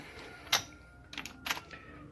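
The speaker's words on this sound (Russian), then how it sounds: "Щелчок обозначает, что килограммы достигнуты" A torque wrench tightening a spark plug into the aluminum cylinder head of a Renault 19 gives two sharp, close clicks about a second apart, with a softer cluster of ticks between them.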